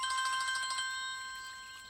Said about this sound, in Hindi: अरे फोन है।